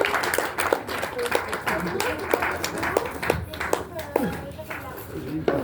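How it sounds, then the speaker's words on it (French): An audience at a book event claps in scattered, uneven bursts, the applause fairly light and mixed with people talking over it. "on applaudit bien fort Thomas et Anne-Laure"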